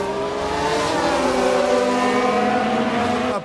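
An Alfa Romeo Formula 1 car racing in the F1 Manager 2022 game, a loud, sustained high-pitched engine whine that climbs steadily in pitch under acceleration, close and continuous.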